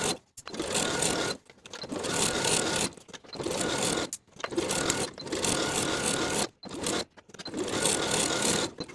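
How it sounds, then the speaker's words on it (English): A sewing machine stitches a pocket onto a cardigan front panel in a run of short bursts, each whirring rattle lasting about a second, separated by brief pauses, close and fairly quiet, with no speech. "I'll use that transferred line as my stitching guide to sew around the pocket, sewing the pocket to the front B piece."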